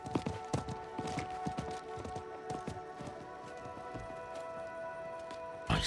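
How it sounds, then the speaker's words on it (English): A horse gallops in Diablo 4, rapid clip-clopping hoofbeats in a steady run over a layer of game ambience, ending on a sharper thud. "I think that was the merchant's horse."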